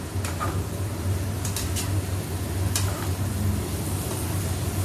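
Grated pumpkin with boiled red chilli roasts in a pan, giving a soft continuous sizzle with a low hum and a few sharp clicks of a spoon scraping the pan.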